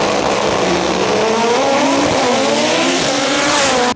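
A turbocharged Chevrolet Chevette race car rated at 1500 horsepower tears along a track, its engine screaming loud and close as the pitch climbs under acceleration, with tyre squeal layered over the roar and no voices.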